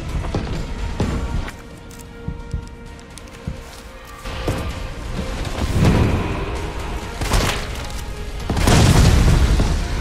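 Explosive rounds detonating in the Resident Evil 3 video game, several heavy booms and bursts spaced across the stretch, growing louder toward the end over softer game ambience.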